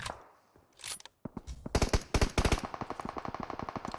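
Machine gun fire in the battle-royale game PUBG Mobile: a few scattered shots give way to loud close bursts, then a long steady run of rapid automatic rounds.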